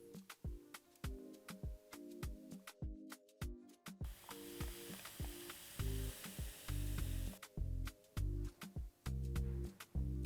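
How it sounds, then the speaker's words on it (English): Nigerian okra soup with assorted meat, crab and prawns cooking in a pot, heard as soft sizzling and bubbling broken by repeated stirring and scraping knocks in an uneven rhythm, close and fairly quiet. "And we're just gonna allow this to simmer for another 4 minutes."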